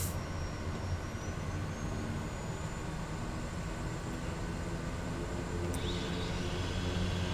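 A Kodiak 100 turboprop in Microsoft Flight Simulator 2020 idles at the end of the runway before takeoff, a steady, dense engine drone with a faint whining tone, constant and unbroken throughout.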